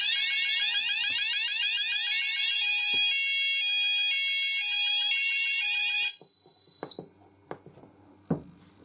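A fire alarm blares a loud, steady electronic pulsing tone for about six seconds during a test of a detector system with a Hochiki optical smoke detector, then cuts out, leaving a few quiet clicks and knocks.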